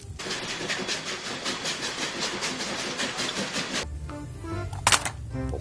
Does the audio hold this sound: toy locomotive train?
yes